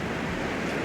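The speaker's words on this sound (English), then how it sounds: "It's windy" Coastal wind near Esperance, Western Australia, rushes steadily as a broad, even noise, buffeting the microphone throughout with no voices.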